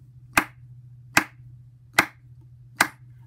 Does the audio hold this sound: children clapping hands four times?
yes